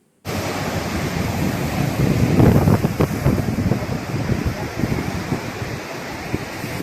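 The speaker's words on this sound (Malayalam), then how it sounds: "കടൽ തീരത്ത് വന്നിരുന്ന് ഈ കാറ്റൊക്കെ കൊണ്ട് കടലിനെ ആസ്വദിച്ചിരിക്കുന്ന" Steady sea wind and breaking surf on Fort Kochi beach, a loud continuous wash that swells briefly in the middle with no voices.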